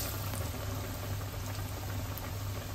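Bananas coated in sugar frying in hot cooking oil, a dense, even bubbling hiss that stays constant and close throughout, with no talking.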